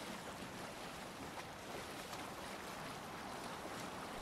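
A Viking longship sails across open sea in the video game Assassin's Creed Valhalla, a faint, steady wash of waves and wind with no distinct events.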